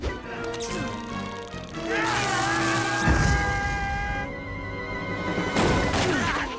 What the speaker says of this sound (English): Like this taser explosion from that time he fought Donald Trump.